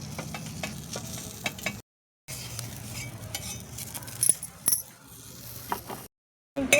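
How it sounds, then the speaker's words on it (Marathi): Grated coconut roasting with green chillies in a pan over a wood-fired chulha, giving soft stirring scrapes and faint sizzle at close range, with brief breaks of silence. "आता त्याच्यातच खोबरं टाकून घेते."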